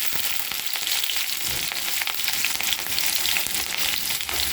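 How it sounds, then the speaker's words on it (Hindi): Cumin and green chilies fry in hot oil in a kadai, giving a dense, steady sizzle and crackle close by with no talking. "मैंने एक कढ़ाई में तेल गरम कर लिया है। अब हम इसमें डालेंगे जीरा"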